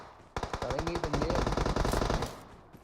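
Rapid automatic gunfire in an online shooter video game, long continuous bursts of many shots in quick succession, loud and close, running for about two seconds before trailing off.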